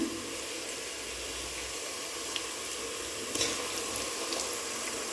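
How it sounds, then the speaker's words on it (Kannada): Ginger garlic paste sizzles with onions in a pan over medium flame for chicken biryani, a steady broad hiss with faint stirring clicks and no voices. "ಇವಾಗ ಶುಂಠಿ ಬೆಳ್ಳುಳ್ಳಿ ಪೇಸ್ಟ್ ಹಾಕೋತಾ ಇದ್ದೀನಿ"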